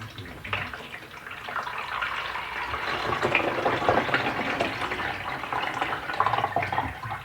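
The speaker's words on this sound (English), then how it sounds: "Pour this into the coffee pot." Liquid being poured into a coffee pot in a home kitchen, a steady splashing, trickling stream running for several seconds at close range with no talk.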